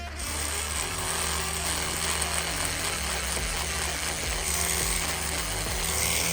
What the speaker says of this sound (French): petite brosse à dents électrique.